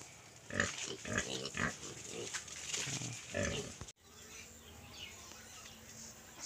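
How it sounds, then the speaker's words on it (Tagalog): Native pigs on a Philippine farm after a typhoon grunt and oink in a steady cluster of short calls for a few seconds, then the sound cuts to quieter outdoor ambience. "meron din silang alaga na native pigs"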